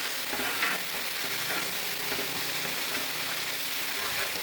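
Chicken kuzhambu for Chettinad nattukozhi curry being stirred with fresh coriander in a hot pan, a continuous sizzle with scraping stir strokes, close and steady, with no clear talking.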